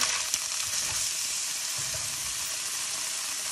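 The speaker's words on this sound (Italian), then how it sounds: "mettiamo l'olio in padella, aggiungiamo mezzo spicchio d'aglio e lo facciamo dorare leggermente" Half a clove of garlic fries in olive oil in a pan with a constant bright sizzle, close and steady, after one small clink at the start, with no talking.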